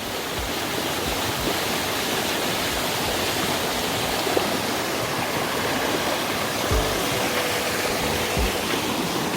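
Yukdam Falls in Seoraksan, a waterfall over 40 metres tall, pours into a deep pool. Its dense roar of rushing water is loud and constant throughout.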